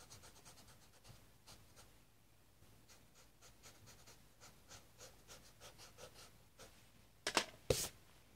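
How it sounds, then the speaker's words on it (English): Eraser rubbing out pencil guidelines on a paper drawing, faint, close, repeated scratchy strokes in an uneven rhythm, ending with a couple of louder handling noises. "Let me just rub out the guidelines."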